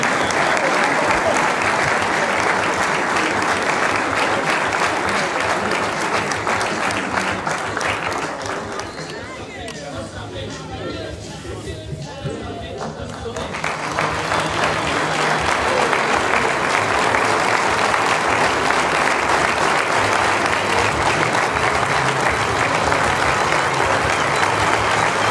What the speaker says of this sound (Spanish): Los aplaudimos para recibirlos una vez más.